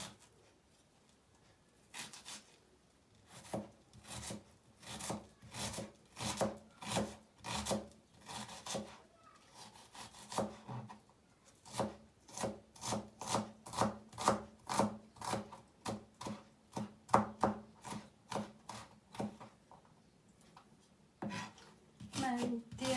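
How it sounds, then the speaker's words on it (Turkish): A knife finely chops an onion on a wooden board, quick rhythmic strokes in bursts with short pauses, close and fairly quiet. "Bir adet kuru soğanım var. İncecik yemeklik doğrayacağım."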